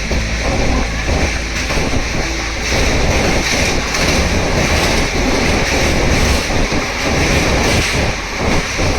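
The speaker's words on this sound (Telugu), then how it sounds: "విజయవాడ చెన్నై వందే భారత్ ఎక్స్ప్రెస్ ఇప్పుడు క్రాస్ అయింది." Vande Bharat Express running between Vijayawada and Chennai rushes past at close range, a loud continuous roar with rhythmic wheel clatter throughout.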